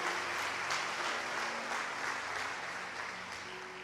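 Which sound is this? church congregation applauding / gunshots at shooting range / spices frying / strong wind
church congregation applauding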